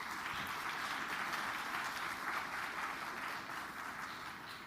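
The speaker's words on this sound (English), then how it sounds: "I want a round of applause for people like Vishal and Aditi" Steady, dense applause from a conference audience at a fixed income summit fills the room continuously, loud and sustained without talk.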